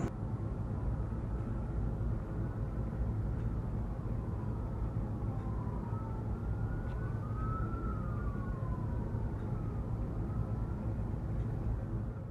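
Police sirens wail and sweep up and down in the distance, overlapping each other above a steady rumble of traffic and city noise.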